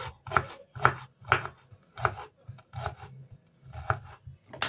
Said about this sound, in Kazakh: Редискімізді турап саламыз.